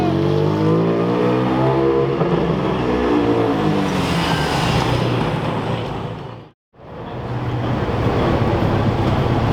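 A supercar resembling a GT Club Sport drives past on a road during a supercar driving day, with a loud, sustained engine roar close by, a brief cut, then more roaring engine noise.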